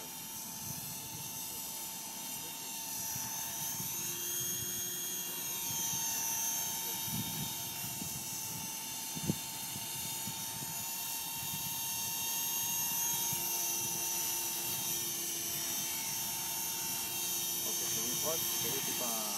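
A small T-Rex 450 Pro radio-controlled helicopter holds a steady rotor whine and motor buzz while hovering at eye level and easing lower, a continuous drone with people talking over it.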